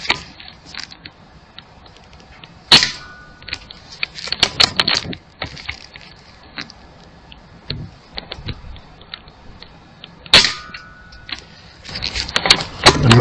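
Air rifle, an AP 900, firing Spitfire Dome pellets outdoors: a few sharp, loud cracks spaced several seconds apart over faint background noise and clatter.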